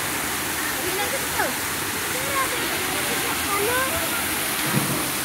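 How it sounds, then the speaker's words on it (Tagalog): Busay Falls on Camotes Island roars steadily nearby, a dense continuous rush of water, with faint voices talking underneath the noise. "So grabe yung agos ng tubig ah"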